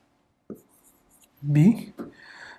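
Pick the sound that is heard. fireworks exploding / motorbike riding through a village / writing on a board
writing on a board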